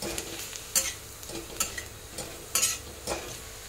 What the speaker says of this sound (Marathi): हे किसलेलं खोबरं टाकूया, ते पण चांगलं तेलात असं भाजून घ्यायचं आहे